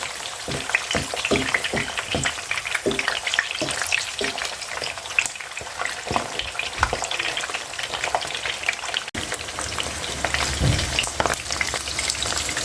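Eggs fry in hot cooking oil in a home kitchen, with a steady close sizzle full of crackling pops and spatters running throughout, joined by occasional soft scraping or stirring noises.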